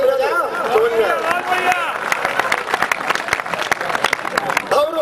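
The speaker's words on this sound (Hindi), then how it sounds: "तालियां बजाओ, समझ में आया?" Audience applause at a Hindi poetry recital (kavi sammelan), a dense wash of clapping from a crowd that builds and carries on steadily, with a voice speaking over the start.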